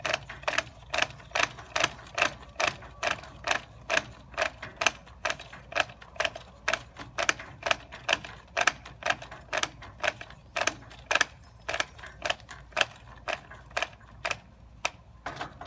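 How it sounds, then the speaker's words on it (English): Trimmer line being wound onto a speed feed string trimmer head by spinning the top while holding the bottom, a fast even series of sharp plastic clicks and ratcheting ticks, close and alone. "Then you hold the bottom and you spin the top to wind it in."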